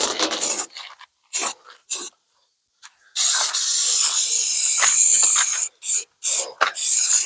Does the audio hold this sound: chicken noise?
no